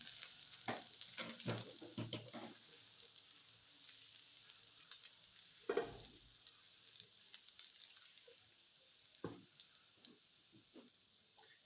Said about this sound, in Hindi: अब हम इसमें शामिल करेंगे लहसुन